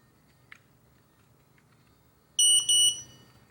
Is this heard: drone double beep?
yes